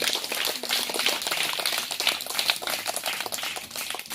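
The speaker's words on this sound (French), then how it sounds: "on acclame encore pour Papa Dieu" An audience applauds in praise of Papa Dieu, dense steady clapping from many hands that continues loud and unbroken for the whole stretch, with no voices above it.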